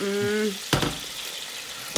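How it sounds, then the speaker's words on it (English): Pasta and garlic sizzle loudly in a hot pan, a steady crackling hiss that swells when stirred, after a brief tonal sound at the start. "Oh, do you hear that? That sounds gorgeous. Oh, I can't wait to eat that. That's sizzling."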